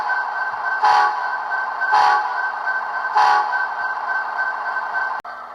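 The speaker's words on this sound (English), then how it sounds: "F3 is your short horn, or if you change that CV," Three short, even blasts of an HO scale Athearn Genesis Union Pacific 1111 model locomotive's short horn sound over a steady electric hum, followed by a sharp click near the end.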